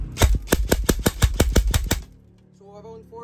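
E&C 702 M16A3 airsoft AEG rifle firing full auto: a rapid, evenly spaced burst of about twelve sharp cracks lasting two seconds, close up, followed by quiet electronic tones.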